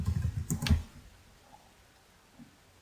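Someone types a search on a computer keyboard: a short, quick burst of close key clicks, then near silence.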